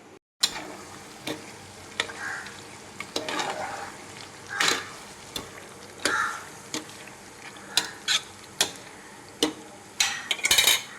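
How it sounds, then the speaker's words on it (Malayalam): Samosas fry in hot oil, with a soft bubbling sizzle running steadily under frequent sharp clicks and taps, likely from a utensil moving them in the pan, close and with no talking. "ഇത് നല്ലതുപോലെ ഒന്ന് വറുത്തെടുക്കാം."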